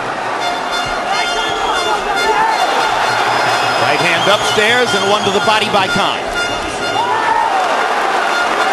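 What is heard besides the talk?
Irish fans cheering in boxing arena crowd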